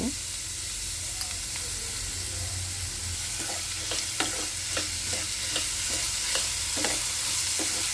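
Vegetables fry in oil with a steady bright sizzle, broken by a series of spoon taps and scrapes against the pan as they are stirred, up close with no talking.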